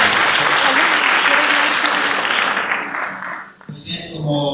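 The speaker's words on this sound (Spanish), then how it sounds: "Pido un fuerte aplauso" An audience at an academic talk on soft skills in higher education claps loudly and steadily, the applause fading out toward the end as a voice begins speaking over the dying claps.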